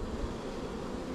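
Honey bees buzz during a hive harvest, a dense, steady low hum from many bees close by that lasts the whole brief moment with no voices.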